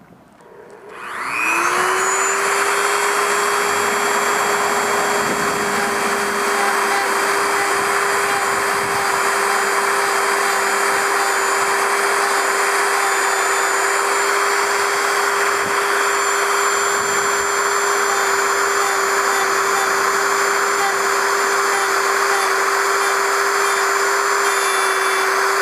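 A high-pitched rotary power tool spins up and then runs steadily and loudly, grinding away the rough edge on a Fenwick HMG fishing rod, with a sustained whine and faint scraping contact throughout.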